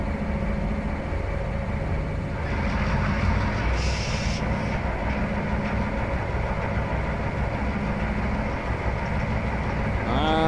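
A very small railroad engine backing up on the Carrabassett Valley Railroad, a steady low rumble and mechanical drone, loud and continuous throughout, with no talk over it.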